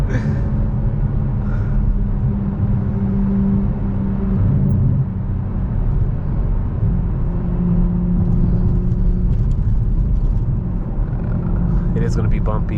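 A 500 hp 2022 Toyota Supra cruises at night on rough roads, with a steady, close engine drone and road rumble throughout, while a voice talks over it.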